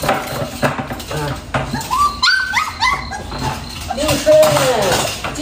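A clingy dog whimpers and yips with high, rising and falling whines and a few short barks at feeding time, close by, while a person talks over it and dishes faintly clatter.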